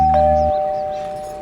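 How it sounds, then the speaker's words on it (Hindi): A two-tone doorbell chimes once at a home's front door, a loud ding followed by a sustained ringing tone that fades slowly, with no voices. "जब देखो घंटी बजती रहे, टड़ंग टड़ंग टड़ंग टड़ंग"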